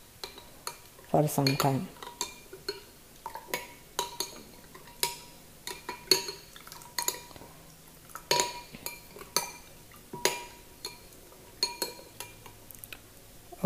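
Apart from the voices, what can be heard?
stirring soaked almonds into milk in a bowl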